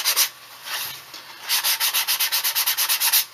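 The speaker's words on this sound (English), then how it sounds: "now I'm going to sand it a little bit" Sandpaper of 220 grit rubs the raw edge of a thin leather wallet in close, brisk strokes, slow at first and then a rapid, even run of about a dozen rhythmic scrapes.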